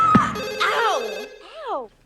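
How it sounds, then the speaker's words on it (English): A telephone rings twice in a comedy horror movie scene, its warbling electronic trill loud and close, with a brief sharp thud at the start and faint background sound under it. "And the phone rings again."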